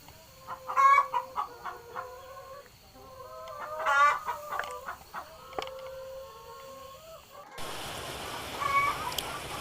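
Chickens at a small home egg-laying farm cluck and squawk in repeated close bursts, with a few crowing calls mixed in and a brief burst of noise near the end.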